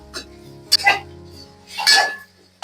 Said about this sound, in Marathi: मग हा आता आपल्याला व्यवस्थित फ्राय करायचा.